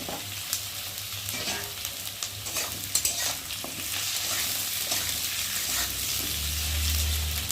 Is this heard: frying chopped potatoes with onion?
yes